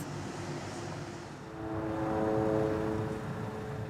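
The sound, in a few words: Israeli drones flying overhead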